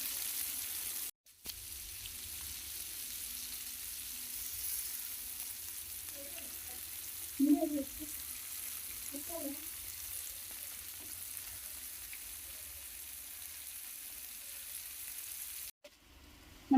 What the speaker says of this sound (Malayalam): നമ്മുടെ ഫിഷ് ഫ്രൈ അങ്ങനെ റെഡിയായി